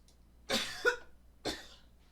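Two short, harsh coughs about a second apart, fairly close and clear, with quiet between them.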